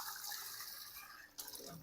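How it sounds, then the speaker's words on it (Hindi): Water pours into a pot of meat stock for Afghan beef pulao, a soft steady splashing stream that shifts with a sudden louder gush near the end, with no voices over it. "इस यखनी में मैं और पानी ऐड कर रहा हूँ"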